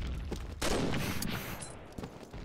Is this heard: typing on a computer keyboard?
no